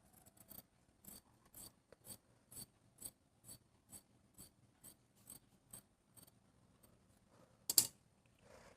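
Scissors cut fabric for a chudidar three-quarter sleeve with a steady rhythm of quiet, crisp snips about every half second, then a louder snip near the end.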